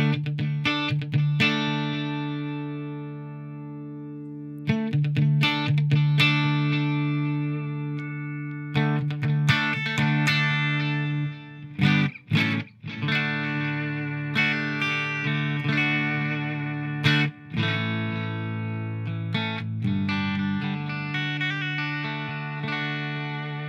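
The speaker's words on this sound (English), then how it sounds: "So here's a little bit of delay." Electric guitar played through a Line6 Floor Pod with delay engaged, picked notes and chords ringing with repeating echoes over a mildly distorted tone, steady and close with no talking.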